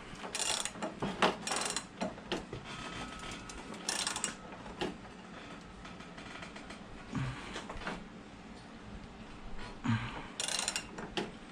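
A ratchet torque wrench tightens dirtbike handlebars on a Kawasaki ZX6R, giving quiet, close clicking bursts in several separate goes with short pauses between them.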